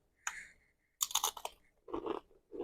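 Crunchy chewing of Doritos corn chips eaten with chili, close up, in three separate bursts of crisp bites and munching with short quiet gaps between, no talking.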